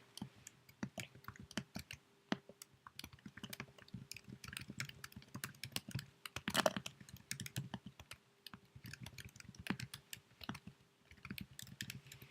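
Annotations are typed on a computer keyboard in quick, uneven bursts of close, crisp key clicks, with short pauses between runs and a louder clack now and then.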